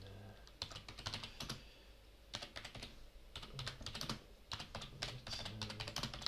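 Bursts of quick keystrokes on a computer keyboard as a prompt is typed into Google Bard, close and fairly quiet, with short pauses between runs of typing.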